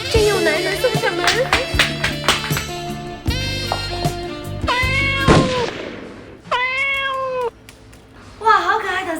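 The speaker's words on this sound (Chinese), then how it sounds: "哇，好可爱的小猫咪，你怎么会出现在这里啊？" A small, plump pet cat meows several times indoors in a homemade comedy skit, drawn-out rising and falling calls standing out over background music and other sounds.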